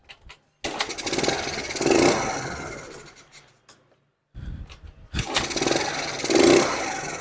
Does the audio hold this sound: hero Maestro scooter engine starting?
yes